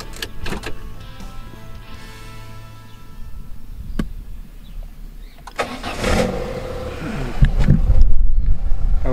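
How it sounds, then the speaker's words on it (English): A Peugeot 206 car engine cranks and starts after an oil cooler installation, the starter whir building into a running engine that grows louder toward the end, close by with no talk. "Now we can turn on the car and see if we have any leaks."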